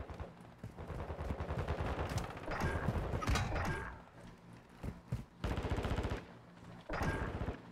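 Sniper and automatic gunfire in a Modern Warfare 2 search-and-destroy match: sharp repeated shots and bursts, some loud and close, others more distant, with brief gaps between volleys and no talking.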